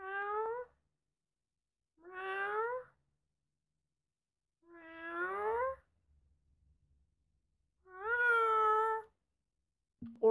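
A person imitates a cat with four separate drawn-out meows, each rising and falling in pitch and spaced a couple of seconds apart, close and clear with silence between them.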